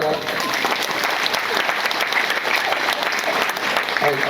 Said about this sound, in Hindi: फिर एक बेर जोरदार ताली बजा